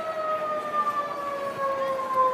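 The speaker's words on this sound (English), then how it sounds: "I don't know if you can hear the fire truck going by" Fire truck siren passing at a distance, a wailing tone sliding slowly downward, steady and moderately faint with no voices over it.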